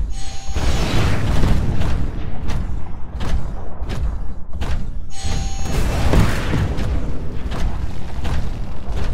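Rockets explode in a Titanfall training hallway, a series of heavy booms and thuds rolling one after another, loud and close, amid mechanical game noise.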